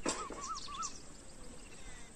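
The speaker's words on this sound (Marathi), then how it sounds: "कोकिळ सूर लावायला लागलेले" A koel sings outdoors near a garden, giving a few short, wavering whistled notes early on before the air goes quiet, faint and somewhat distant.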